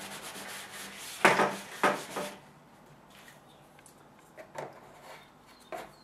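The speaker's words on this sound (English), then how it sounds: "you can even take a tissue if you really want to just rub it all out." A tissue rubs over wet watercolour paint on paper, making a few short, close scrubbing swishes, two stronger strokes and then softer ones.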